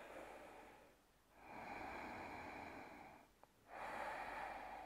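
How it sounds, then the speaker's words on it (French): Slow, deep Ujjayi breaths during a yoga flow, each long hissing inhale and exhale drawn through a constricted throat, close and soft, with brief quiet pauses between breaths and no speech. "Respiration Ujjayi, comme toujours."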